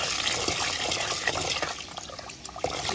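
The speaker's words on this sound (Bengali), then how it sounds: "এখন চালগুলো ভালো করে ধুয়ে নেব।" Rice for chicken leg biryani is washed by hand in a pot of water, with close sloshing, swirling and splashing throughout.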